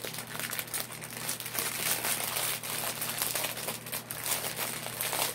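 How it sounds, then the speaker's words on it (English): Plastic packaging crinkles and rustles steadily as bars of wax are unbagged, a close, continuous crackling texture with no speech. "You guys are gonna hear crinkling."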